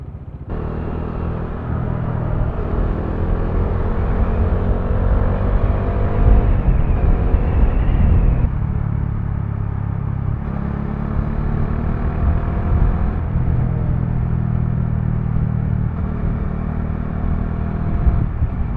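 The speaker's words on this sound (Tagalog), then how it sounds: "Sarap mag motor pagka ganito." A Bajaj Dominar 400 motorcycle cruises along an open road, its engine giving a steady loud rumble with wind noise throughout, easing briefly in pitch before holding an even drone.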